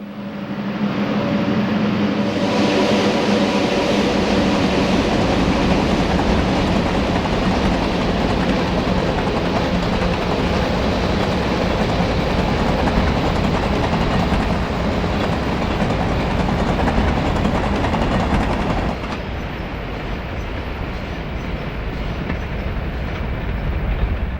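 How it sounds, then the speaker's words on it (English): A coal train on the B&O line near Harper's Ferry, West Virginia, pulled by five locomotive units, rumbles loud and steady around a curve, with wheels clattering over the rails before the sound drops away near the end. "Another coal train comes around the curve. This one has 5 units"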